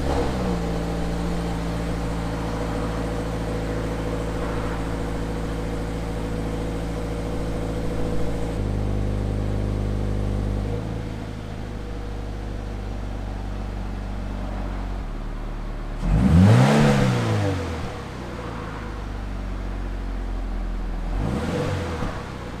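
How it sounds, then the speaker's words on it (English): A Subaru BRZ / Toyota GT86 sports car engine with a completely stock exhaust idles with a deep steady rumble, then revs sharply once and again near the end, the exhaust roaring up and falling back. "I'll insert a clip below of what the car sounds like completely stock in terms of the exhaust system"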